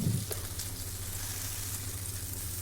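A stuffed banana fries in a pan over a high flame, making a steady, even sizzle throughout, with a short clatter at the start and no voices.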